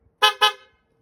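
A newly installed horn on a 2008 Toyota Camry gives two short, bright honks in quick succession, loud and close, with silence on either side.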